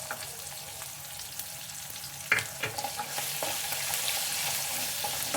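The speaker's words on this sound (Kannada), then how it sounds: "ಇದನ್ನು ಚೆನ್ನಾಗಿ ಫ್ರೈ ಮಾಡ್ಕೊಳ್ಳಿ." Chopped onion and garlic fry steadily in a pan with a continuous crackling sizzle, a single metallic clank of a spoon against the pan partway through, and a few lighter scrapes afterward.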